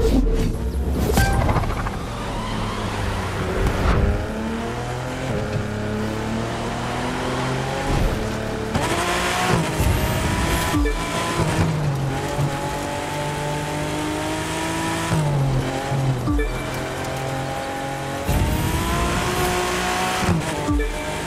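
Race cars accelerating in The Crew 2 at a Motofest Xtrem Series event on Oahu, engines revving loudly and continuously with rising and falling pitch sweeps over a steady roar, no talking.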